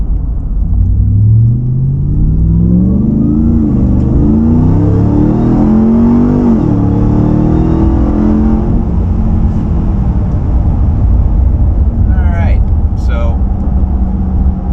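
RAM 1500 TRX truck with a high-performance mid pipe exhaust climbs through a loud rev, then settles into a deep, continuous rumble, with a few brief sharp chirps near the end.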